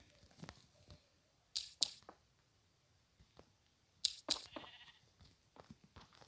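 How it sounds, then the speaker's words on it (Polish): Minecraft sheep bleat in short bursts, two pairs of quick calls a few seconds apart over faint clicks and quiet game background. "słyszę owcem"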